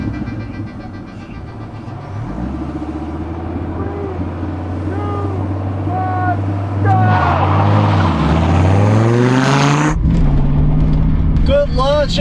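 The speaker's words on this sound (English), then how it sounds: "Good launch in the C4. Oh, a little bit of a burnout. Oh, but that Viper is gone." A Chevrolet Corvette C4 ZR-1 and a Dodge Viper launch side by side in a quarter-mile drag race. Loud, close engines rev and climb steadily in pitch, with people talking over the roar.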